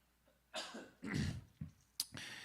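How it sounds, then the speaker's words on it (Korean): A few close coughs and throat-clearing sounds, spaced unevenly with short quiet gaps between them, no talking. "건조해서 그런가 계속 기침이 나네요."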